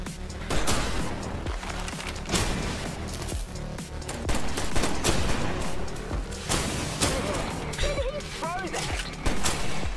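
Repeated gunshots in the game I Am Your Beast crack out in rapid bursts and single reports throughout, loud and close, amid other action noise.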